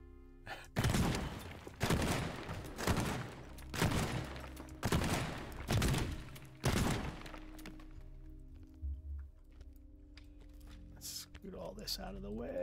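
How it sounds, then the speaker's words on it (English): Shotgun blasts in the destruction sandbox game Teardown: six heavy, booming shots about one second apart, loud and close, followed by quieter clattering of debris and low ambient rumble. "Get the shotgun."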